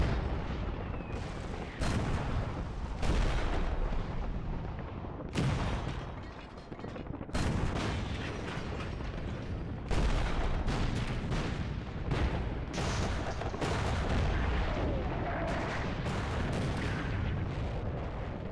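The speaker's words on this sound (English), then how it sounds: "the British artillery unleashes a barrage of 4 million shells" British WWI artillery barrage of shells, a dense, continuous roar of booming blasts and rumbling detonations with frequent sharp cracks, heavy and sustained throughout.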